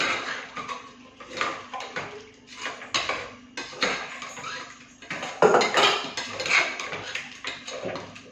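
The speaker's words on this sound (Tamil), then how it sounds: "நான் கரம் மசாலா சேர்த்துக்கிறேன் கொஞ்சமா. கிண்டிக்கலாம்." Biryani masala with garam masala is stirred in a metal cooking pot, producing repeated clanks, scrapes and clinks of the spoon against the pot in an uneven rhythm, up close and without talk.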